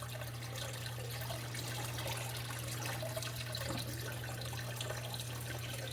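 Water pouring steadily into a fish tank during cleaning, a continuous soft splashing wash that stays even throughout, with a low steady hum underneath from nearby equipment.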